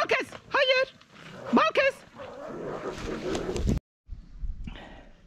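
A dog in a Turkish village whimpers and gives short yips, close by, mixed with a person talking and calling to it, followed by a brief pause and softer noise.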